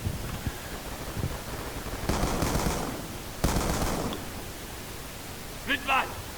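Gunfire in the video game Call of Duty Black Ops II comes as two short, hissing bursts of automatic fire over a low background, followed later by a brief voice-like game cue.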